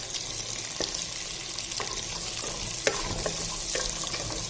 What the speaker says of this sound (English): We will mix it thoroughly.